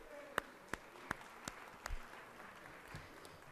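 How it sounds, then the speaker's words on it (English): Scattered applause rises from the gallery of the Georgia Senate chamber: half a dozen sparse, separate claps, quiet and thin, over a faint room hum. "Y'all please give them a round of applause for being here today"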